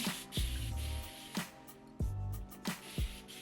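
A spray bottle mists water onto curly hair to saturate it before boho twists, with four or five short hissing bursts, each opening with a soft pump thump, spaced about a second apart, close by and with no talking.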